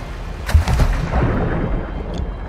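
Gunfire in the video game Modern Warfare 2: a few sharp booming shots near the start, then a rumbling wash of distant battle noise, with no talk.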